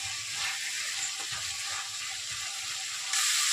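Dried anchovies frying in a pan, giving a steady, close hiss and sizzle with small crackles and faint stirring scrapes throughout; no talking.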